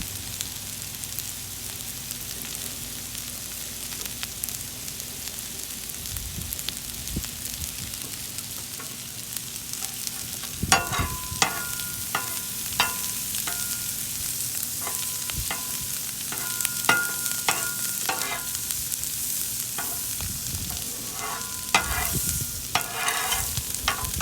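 Ramps fry on a Blackstone griddle in Virginia, a continuous close sizzle broken by sharp clatters and scrapes of a spatula stirring and sautéing them, no talking.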